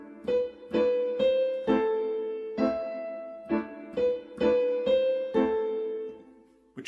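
Piano plays a passage from Arabesque with an incorrect slur carried over the bar line, a run of about ten clear, evenly spaced notes, some detached and some connected, ringing up close.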